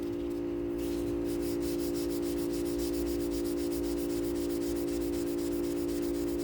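A guitar finish is wet-sanded with 1000 grit Eagle Abrasives sandpaper in quick, even back-and-forth rubbing strokes that repeat steadily throughout over a constant low hum.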